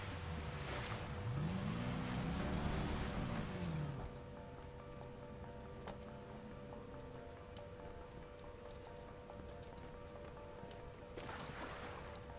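A boat in the video game Watch Dogs: a rising and falling engine whine with water wash for the first few seconds, then a quieter steady drone with faint game ambience and clicks.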